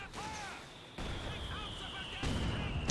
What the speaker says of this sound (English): A lot of mortar fire there going all over the place.